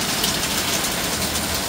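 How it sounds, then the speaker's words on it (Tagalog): Heavy rain pounds on a galvanized iron roof, a dense and steady drumming roar that is loud and close, with no talk. "Ulan na naman."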